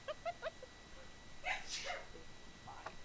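A person sneezes quietly during a gaming stream, a short burst around the middle preceded by a few small squeaky sounds, faint and fairly close against a low hiss.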